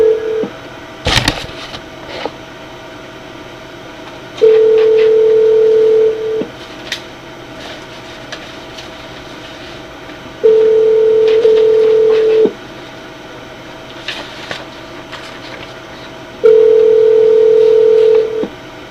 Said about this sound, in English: So now I will call Envoy once again and request to turn on the phone.